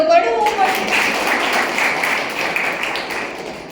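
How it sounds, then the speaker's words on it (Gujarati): An audience at a Brahma Kumaris Mother's Day celebration in Amreli breaks into a dense wash of clapping right after a brief spoken phrase, then holds steady applause that fades slightly toward the end. "તાળીઓ તો પડવું પડે."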